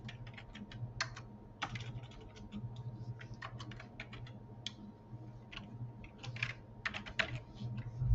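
Rapid, irregular clicking of keys on a split computer keyboard, close and fairly quiet over a low steady room hum, with no talking.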